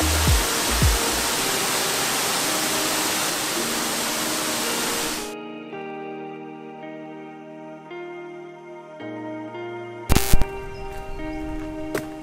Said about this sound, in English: We are at Davies Creek Falls.